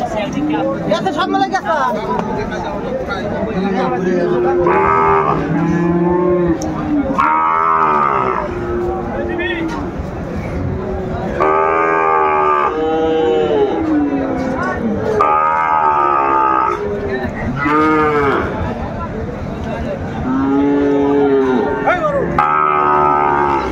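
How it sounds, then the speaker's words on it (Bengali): At a rural cattle market in Narsingdi, Bangladesh, where Sahiwal bull calves are sold, cattle moo loudly and repeatedly up close, the long calls overlapping with the steady chatter of people talking nearby. "দেখছেন বিলাল ভাই গরুটি।"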